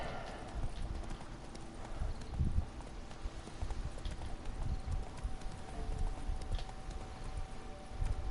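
Roach the horse galloping in Witcher 3, a steady rhythmic clip-clop of hooves close up over ambient game sound, with a faint voice briefly in the background.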